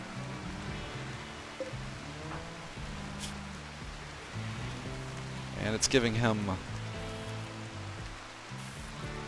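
Soft, steady rain falls in a video game, faint and continuous beneath a man's speech.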